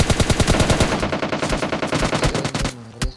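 Rapid automatic gunfire in the mobile battle-royale game PUBG Mobile Lite, a dense burst of evenly spaced shots that slows into scattered single cracks, loud and close with no talk.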